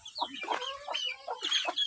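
A brooding hen clucks in a quick series of soft, throaty notes close by, with short pauses between the calls.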